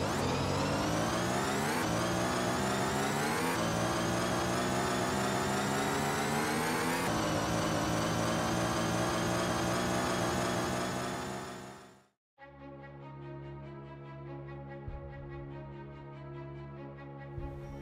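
Batmobile engine in Rocket League, loud and continuous, revving in rising steps with clear harmonic whine, cutting out briefly then settling into a steady lower idle hum.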